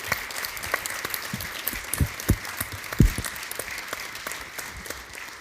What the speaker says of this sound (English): Let's give all of our candidates another round of applause.